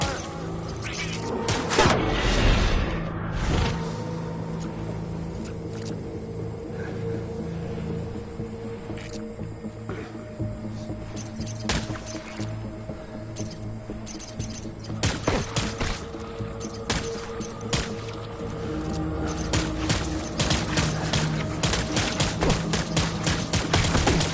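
Gunfire in the video game Death Stranding crackles in repeated sharp bursts and scattered shots over a constant rumbling background, growing busier and denser toward the end.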